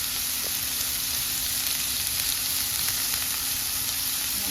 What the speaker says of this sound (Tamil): எண்ணெயிலேயே நல்லா வதங்கிடும்